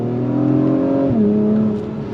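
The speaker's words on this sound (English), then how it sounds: "we're gonna go on throttle again. On throttle. Nice, purposeful shifts from that 10-speed automatic." A 2023 Acura TLX Type S accelerates hard through its 10-speed automatic, the engine note climbing loud and close, then dipping sharply at an upshift before pulling again and fading slightly.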